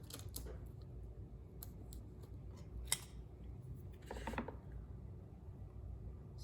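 Scissors snip through vinyl decal material on a softball tumbler in a few short, quiet bursts, spaced irregularly over a faint background hiss.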